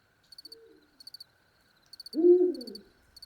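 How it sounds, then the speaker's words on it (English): A single eagle owl gives a deep, drawn-out hoot near a Greek lake, preceded by a faint lower call, while crickets chirp in steady rhythmic trills around it in a quiet night setting. "the eagle owl."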